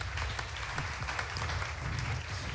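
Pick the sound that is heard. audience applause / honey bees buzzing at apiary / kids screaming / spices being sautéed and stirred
audience applause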